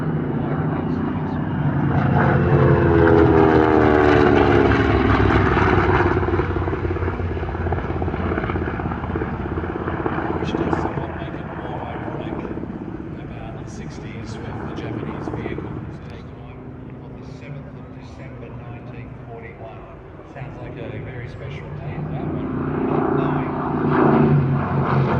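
A Grumman Avenger, the heavy single-engined WWII carrier torpedo bomber, flying at an airshow, its loud propeller drone swelling, fading and rising again, with someone talking over it throughout.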